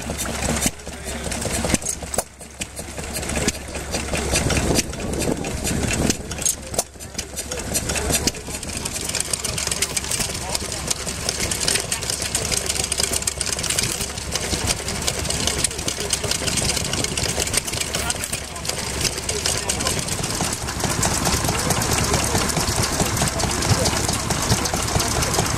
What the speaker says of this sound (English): And a few stationary engines.